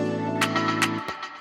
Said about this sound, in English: This is another percussion sound, and it just creates something right before the drop hits.